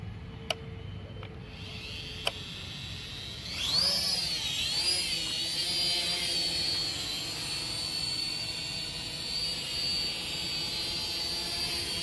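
A Magic Speed X52 toy drone, flying somewhat unstably, opens with two sharp beeps. Its rotors then spin up into a close, steady, high-pitched whine that wavers slightly and holds to the end.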